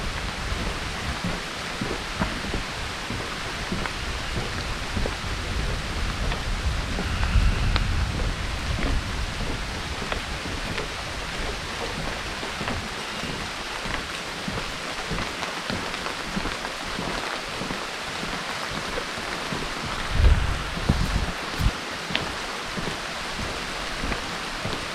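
Steady rain falling on the boardwalk trail through a forest in Congaree National Park, a dense even hiss with scattered heavier drips and a couple of louder knocks, continuous and fairly close with no talking.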